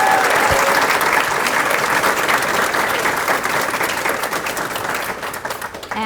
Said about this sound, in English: Can we actually give him a thunderous applause first?